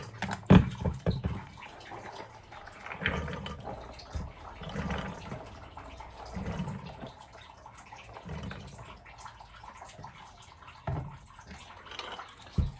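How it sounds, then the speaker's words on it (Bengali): Water is poured over soaking chickpeas in a kitchen, splashing and trickling in intermittent pulses at close range, with quiet gaps in between. "এর মধ্যে একটু জল দিয়ে দিই"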